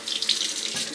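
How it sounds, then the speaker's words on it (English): A tap runs into a sink for a rinse after shaving, a brief close steady hiss and splash of flowing water with no talk. "Let's have a rinse."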